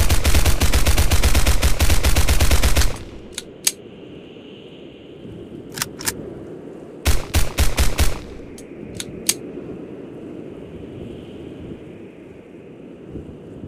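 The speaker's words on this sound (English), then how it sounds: "Heckler and Koch MP5 or Machinen Pistol 5." Heckler and Koch MP5 submachine gun fire in the Gorebox video game: a long sustained automatic burst, then scattered single shots and a short rapid volley, loud and close with a low steady hum between.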